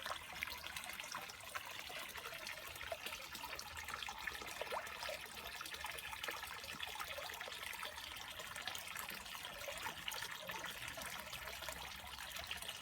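Water from a small, unfiltered flow return trickles steadily back into a little garden pond, a constant, fairly quiet splashing that carries on alone without any voices.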